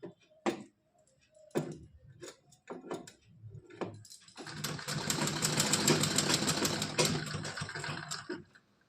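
A sewing machine stitches a straight seam on a cotton dress for a Laddu Gopal idol. A few light handling taps come first, then a steady, close, fast whirring run of several seconds with a rapid needle rhythm.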